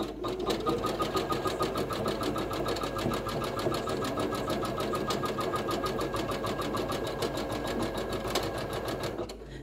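An embroidery machine stitches a bean stitch with yarn in a fast, even mechanical rattle, close and steady for nearly ten seconds before stopping.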